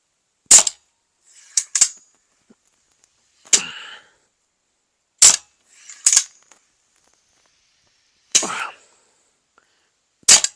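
Six sharp crossbow shots from a Steambow Fenris repeating crossbow with a magazine loader, each a loud snapping release with brief twang, spaced irregularly over about ten seconds with no talk.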